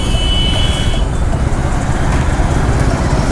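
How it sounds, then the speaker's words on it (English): A motorcycle engine runs steadily in third gear at about 3000 RPM while riding at around 28 km/h, a loud continuous rumble with heavy wind noise and no talking. "now I'm riding in third gear, so it's about 3000 RPM at 28 kilometers per hour"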